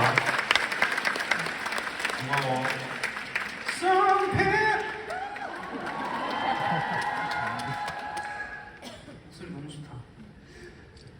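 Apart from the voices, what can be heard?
concert audience applause and cheering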